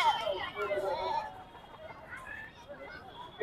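A goat at a livestock and bird exhibition at a farmers' fair in Ranchi gives a wavering bleat near the start, with people talking and background chatter around it.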